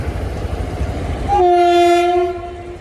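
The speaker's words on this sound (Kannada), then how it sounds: "train ಬತ್ತಂತಲೇ guys" A train horn blasts loud and close, a sustained two-tone blare over the rumble of rail cars rolling past a level crossing gate, with no talking.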